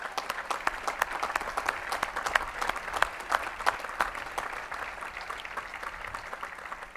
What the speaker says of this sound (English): If we could recognize them with a round of applause.